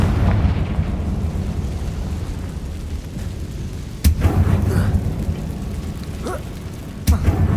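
A Confringo explosive spell fires in the Hogwarts Legacy video game, with sharp blasts at about 4 and 7 seconds rising over a steady low rumble of game ambience.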